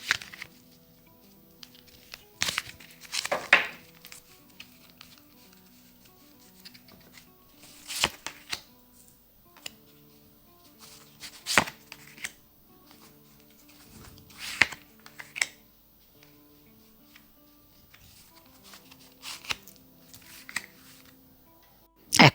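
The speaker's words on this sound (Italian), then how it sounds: "iniziamo appunto a mescolare i nostri tarocchi degli angeli di Doreen" Angel tarot cards from a Doreen Virtue deck shuffled by hand in quiet bursts of papery riffling and tapping, with pauses between handfuls and a faint background hum.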